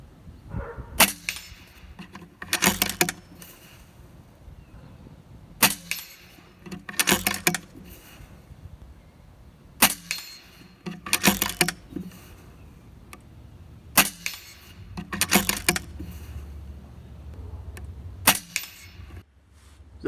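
A .25 caliber air rifle firing Hades pellets, sharp close cracks in spaced pairs, each shot followed quickly by a second report, repeating about every four seconds over a quiet outdoor background without talk.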